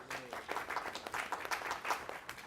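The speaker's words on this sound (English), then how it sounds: "Round of applause for our attorney coach." Applause from a small group at a pre-season mock trial team meeting, a steady crowd of hands clapping fairly close for a couple of seconds, with a faint voice underneath.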